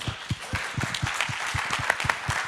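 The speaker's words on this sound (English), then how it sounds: "Big applause" Audience applause after a physics conference presentation: a short run of distinct, moderately close hand claps at a quick, uneven rhythm with no voices over it.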